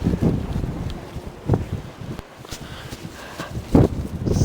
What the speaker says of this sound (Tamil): பயங்கர காற்று